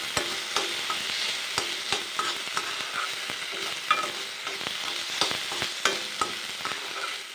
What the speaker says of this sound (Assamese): লৰাই থাকিব